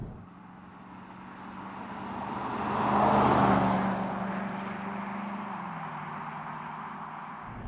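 A stock Jaguar XK with a 4.2-litre V8 runs steadily with a deep, throaty rumble that swells as it passes close by around the middle, then settles back to a steady drone.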